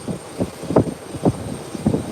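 An aircraft turns around on the runway at Howard Hamilton International Airport, heard as a low, distant engine rumble that swells in short, pulsing surges.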